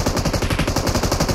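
Rapid, loud, sustained automatic machine gun fire from the mobile battle royale game BGMI rattles on without pause, close and dense.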